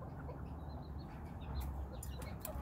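A mother hen pecks at food in a garden at Di Linh, giving soft, scattered clucks close by over low background rustle, with no talking.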